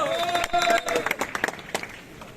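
A street crowd at a Catania festival procession for Via San Giuliano claps in scattered, uneven bursts, with voices calling and chattering over and around the applause.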